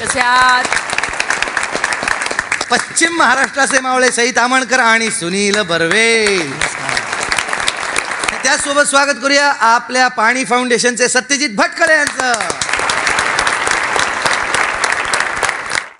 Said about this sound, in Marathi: आणि आता माझ्या सहकाऱ्यांसाठी टाळ्या